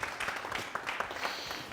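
Brief applause from a small television studio audience, a quiet patter of scattered hand claps that stays soft and uneven over a short moment.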